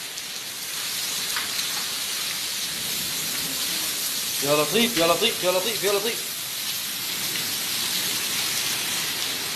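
Large hailstones pelt the ground and surfaces during a violent storm in Beirut, Lebanon, a steady dense hiss of impacts throughout, while a man repeatedly exclaims in Arabic in the middle.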